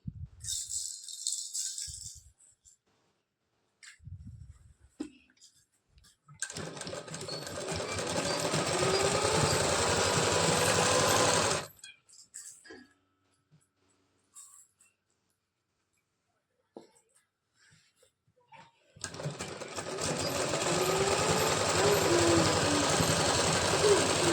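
Sewing machine stitching a belt blouse, running in two long continuous bursts of rapid mechanical whirring, loud and close, separated by quiet pauses with small clicks and handling noises.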